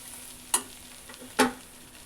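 Uggani with freshly added chopped coriander fries in a pan, giving two quick scraping stirs over a faint, steady sizzle.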